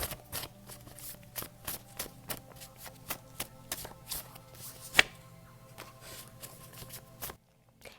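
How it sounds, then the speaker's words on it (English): Tarot cards being pulled and shuffled by hand: a steady run of crisp, close card slaps and riffles at a quick regular rhythm, with one sharper snap near the end before everything stops. "I'm going to pull some cards here."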